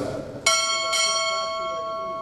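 A ship's bell rings two quick strikes during a U.S. Navy Chief Petty Officer pinning ceremony, the bright metallic tones ringing out clearly and lingering after a soft murmur of room noise.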